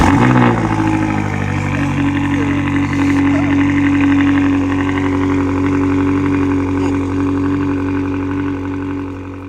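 A BMW M5 CS with a 4.4-liter V8 fires up loudly and close, then settles into a steady, deep, rumbling idle that fades slightly toward the end.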